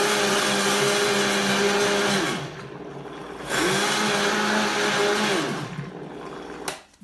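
Countertop blender pulsing half a cup of oats for flourless, eggless oat chia waffle batter on low, two steady whirring bursts of about two seconds each separated by a short pause, then a brief final blip, with no talking.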